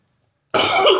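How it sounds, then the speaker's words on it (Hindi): After half a second of silence, a man gives a single close, loud, raspy cough that carries on to the end, with no other sound. "मुझे थोड़ा खांसी हुआ है।"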